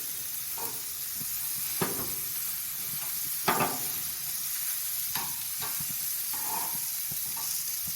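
Chicken pieces searing on a Qwik-Char grill give a steady broadband sizzle, with a few sharper pops and crackles breaking through at irregular moments, close and moderately loud, and no voices.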